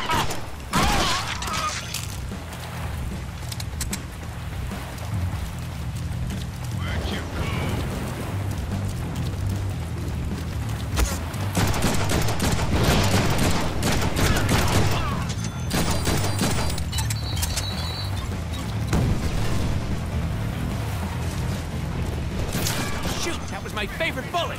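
Deadpool fires his guns in the Deadpool video game on PS4, loud rapid bursts of gunfire with crashing impacts and clanking mechanisms across a busy stretch, mixed under frequent talking.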